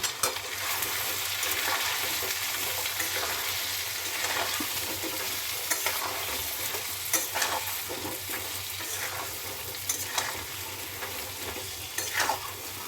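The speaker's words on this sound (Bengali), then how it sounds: "এবারে নাড়াচাড়া দিয়ে নেব।" Raw mango pickle being stirred in a pan with a steady loud frying hiss throughout, plus scattered clicks and scrapes from the stirring utensil, close and without speech.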